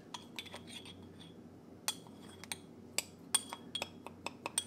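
A metal spoon clinks against a jar of banana powder in a home kitchen, a series of sharp, light taps and scrapes, some quick pairs, close and fairly quiet over a low background hum.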